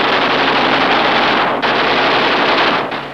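Eight .50-caliber machine guns on a P-47 Thunderbolt fighter fire in a continuous loud burst at about 800 rounds a minute, a dense, sustained roar with two brief dips.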